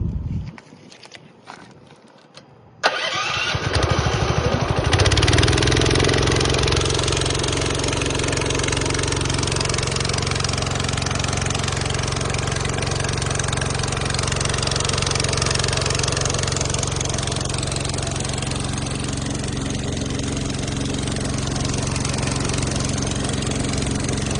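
After a few seconds of clattering, a gasoline engine water pump starts and runs loudly at a steady, even drone for the rest of the time.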